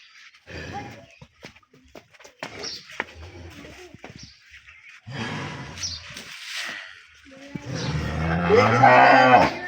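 A Sahiwal dairy cow moos loudly and close by near the end, a deep drawn-out call that follows scattered shuffling and knocking sounds around the shed.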